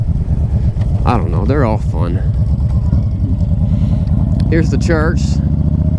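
A 2010 Honda Stateline motorcycle engine hums steadily at close range throughout while someone talks over it, with occasional faint higher tones.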